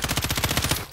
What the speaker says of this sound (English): they're getting shot by the other team